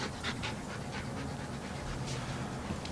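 A dog pants rapidly and rhythmically close by, quick breathy puffs repeating steadily for a few seconds with no talking.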